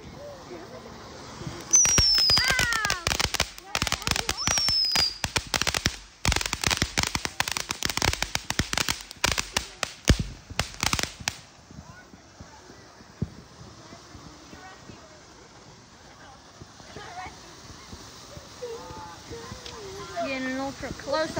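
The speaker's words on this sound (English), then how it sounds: "Those were the firecrackers." Rapid bursts of Fourth of July firecrackers crackle and pop loudly for about ten seconds, then give way to quieter outdoor background with faint voices.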